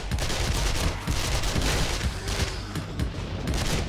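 Rapid, continuous gunfire from a weapon in the survival game 7 Days to Die, a dense crackling stream of shots at steady loudness lasting throughout, with no speech over it.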